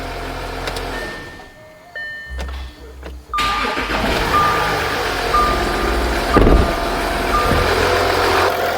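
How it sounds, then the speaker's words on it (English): An Audi Q7 3.0L engine cranks and catches on the first try after a quiet moment, then settles into a steady idle close by, while a high electronic beep chimes at intervals. "I'm gonna turn off the engine. I'm gonna start it back up."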